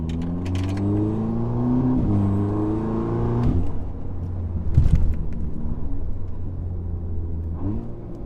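Turbocharged VW/Audi hatchback (A3, S3, GTI or Golf R class) with a freshly fitted charge pipe kit, engine droning and rising through light acceleration with audible gear changes around two and three and a half seconds, steady close-up rumble throughout.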